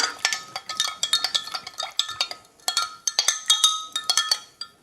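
A spoon stirs a soy sauce salad dressing for a Chinese chicken salad in a glass bowl, giving quick rhythmic clinks and scrapes against the glass, close and fairly loud, with no voices.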